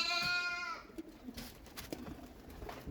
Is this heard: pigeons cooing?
yes